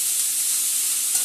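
Banana flower, potato and fish head being sautéed in a pan give off a steady, close sizzling hiss with no break, bright and even from start to end.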